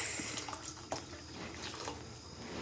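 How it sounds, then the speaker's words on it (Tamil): Water pours softly and steadily into a pot of dried fish curry with tamarind, a faint, trickling splash heard close up with no voices over it. "அடுத்த பலவை தண்ணி ஊற்றிடலாம்."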